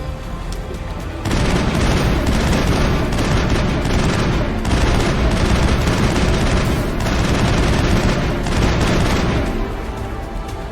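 Sustained automatic gunfire in the Mass Effect video game, heavy rattling bursts with booming impacts that run almost continuously, pausing briefly between volleys, loud and close.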